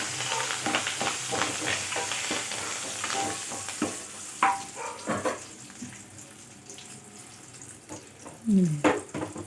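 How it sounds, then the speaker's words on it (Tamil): Dried chili, curry leaves and asafoetida sizzle and crackle in hot oil as a tempering for radish chutney, with steady frying hiss broken by stirring clatter and a few louder pops near the pan. "ஒரு 4 கறிவேப்பிலை போட்டு தாளிச்சிட வேண்டியதாங்க."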